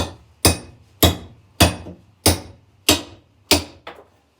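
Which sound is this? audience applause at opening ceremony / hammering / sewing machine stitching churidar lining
hammering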